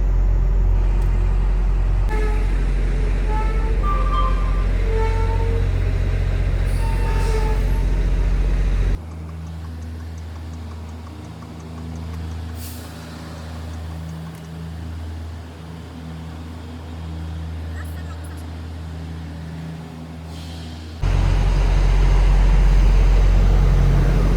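Truck pulling into an unusual unloading place, a loud, close engine rumble that drops to a quieter idling drone in the middle before swelling back up, with faint clanks and hisses, no talking.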